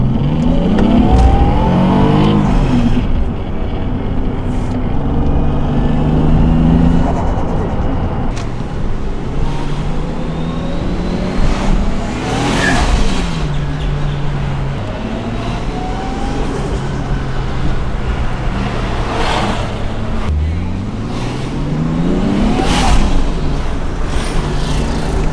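Toyota JZX100 with a turbocharged engine revving through repeated pulls, each rising whine cut off by a sharp fluttering chatter of the turbo, loud and close across a long drive.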